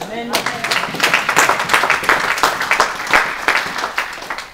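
A church congregation claps during a sermon, starting right after a spoken phrase and building into loud, uneven applause with distinct individual claps that continues to the end.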